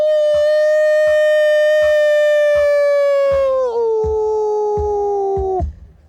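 A voice imitates a wolf howl: one long, sustained tone that slides lower partway through and then cuts off abruptly, with regular tapping beneath it.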